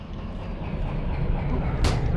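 A locomotive left running in the Derail Valley train simulator game, giving a steady low mechanical rumble throughout with a brief hissing burst near the end.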